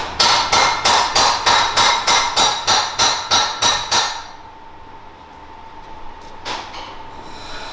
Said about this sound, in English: There's lots of hammering going on whilst we're filming